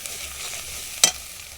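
Ginger, garlic, chilli and turmeric frying in a pan for a shating fish curry, a steady close sizzle with faint stirring and one sharp clatter of a utensil near the middle.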